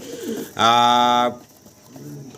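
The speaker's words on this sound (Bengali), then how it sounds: "চমৎকার একজোড়া শর্ট ফেস কবুতর দেখতে পারতেছি" A pair of short face pigeons gives one clear, sustained coo lasting under a second, close by, with faint murmuring voices before and after.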